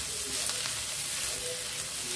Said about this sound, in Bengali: সয়াবিনগুলো ফ্রাই করে নিচ্ছি।